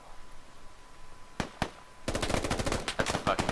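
Gunfire in the military shooter game Squad: two separate sharp shots, then a dense rapid burst of automatic fire that runs to the end, loud and close over quiet ambient noise.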